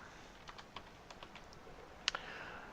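Text typed on a computer keyboard: a quiet, irregular run of light key clicks at close range, ending with a sharper cluster of taps.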